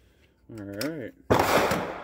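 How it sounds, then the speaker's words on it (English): Sharp gunfire bursts at an outdoor shooting range, loud and close, following a voice speaking; dense cracking shots fill the second half. "I do apologize for any gunfire you might hear in the background."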